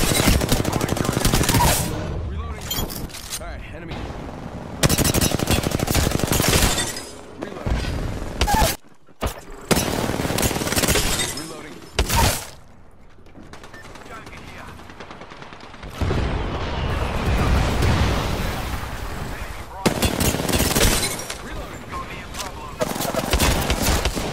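Bursts of gunfire in Apex Legends, rapid automatic fire in loud clusters separated by short pauses, with a voice talking over some of the shooting.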